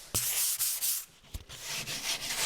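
A 220-grit sanding pad rubbed over wood on a piece of upcycled furniture during finishing, giving loud, close, raspy back-and-forth strokes with short breaks between passes.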